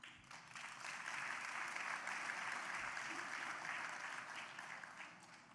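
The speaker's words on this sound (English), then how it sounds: "you all deserve a round of applause" Sustained applause from a school choice event audience, steady and fairly loud throughout, swelling at the start and easing slightly at the end, with no speech over it.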